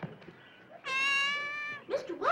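A cat gives one drawn-out, plaintive meow lasting about a second, heard close and clear, with voices talking briefly just before and after it.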